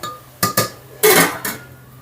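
A few sharp metallic clanks and clatters, like a lid set down on a cooking pot, with a longer rattle in the middle and quiet around them.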